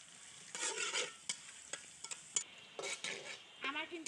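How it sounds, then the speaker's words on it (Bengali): Chopped onions sizzle in hot oil in a village-style kitchen while being fried for a taki fish curry with radish and eggplant, with bursts of scraping stirring repeating several times, close and steady, with no talking. "পেঁয়াজটা একেবারে লাল লাল করে ভেজে নেব।"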